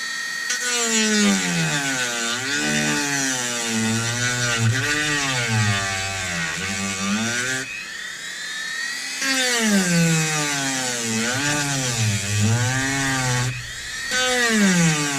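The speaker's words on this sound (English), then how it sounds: "my cordless one ran out of batteries, so off to the trusty old Dremel." A corded Dremel rotary tool with a sandpaper drum sands a turned wooden bowl, its high motor whine rising and falling in pitch as the load changes, briefly easing off midway before spinning up again.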